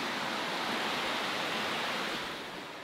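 A river running high after rising overnight makes a steady broadband rush of flowing water, fairly faint and even, fading slightly toward the end with no voices.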